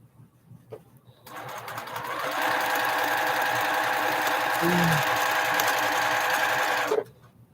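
A sewing machine chain-stitching quilt pieces for flying geese blocks runs for about six seconds, a close, steady whirring hum with fast needle ticking that ramps up and then stops abruptly.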